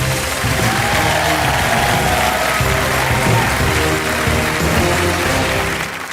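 A theatre audience at a magic show applauds loudly and continuously, a dense wash of clapping that holds steady throughout with faint music or voices underneath.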